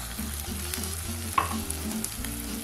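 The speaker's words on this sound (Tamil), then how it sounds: "காயெல்லாம் எண்ணெயில் வதக்கி விடலாம்" Onion, tomato and vegetables such as carrot, beans and green peas sizzle in hot oil while being stirred for vermicelli kichadi, a close crackling fry with scraping stir strokes and one sharp clink.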